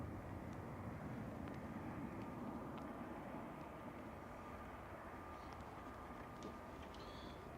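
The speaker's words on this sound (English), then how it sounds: "EasyJet going to Belfast, flight 2707, Airbus A320 GEZ UI." An EasyJet Airbus A320 at Manchester Airport produces a steady, broad engine roar at a distance, a continuous rumbling wash of jet noise with no clear change in level.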